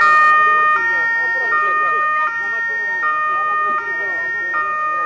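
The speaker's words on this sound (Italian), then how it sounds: "Le sirene dei mezzi hanno suggellato il momento di devozione alla Madonna della Neve" Emergency vehicle sirens wail in repeated rising and falling cycles, loud and close, sustained throughout with faint background noise, during an outdoor devotion to the Madonna della Neve.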